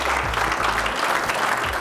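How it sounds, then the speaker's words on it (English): Audience clapping at a talk on Australian culture, a steady dense patter of many hands throughout, with a low hum underneath. "Everybody give that a clap."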